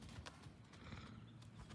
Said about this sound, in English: Hello, horses.